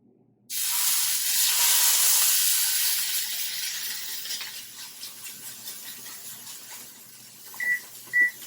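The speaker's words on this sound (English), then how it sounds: "time to sear this steak" A flat iron steak hits a hot oiled pan and sets off a sudden loud sizzle that slowly fades to a softer crackle, with a couple of faint clinks near the end.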